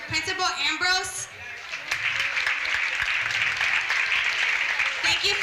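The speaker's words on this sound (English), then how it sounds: "can we give a round of applause for Principal Ambrose?" A round of applause for Principal Ambrose at a school commemoration event rises after a brief spoken line and continues as steady, dense clapping from a gathered audience.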